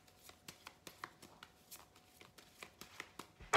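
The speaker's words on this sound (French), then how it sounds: "on va tirer une petite carte de l'oracle" Oracle cards handled and shuffled from a deck, soft papery flicks and light taps scattered in a loose rhythm, quiet and close, ending with a louder rustle.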